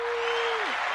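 Studio audience at a podcast taping claps and cheers to welcome a guest, a short dense burst with a voice whooping over it.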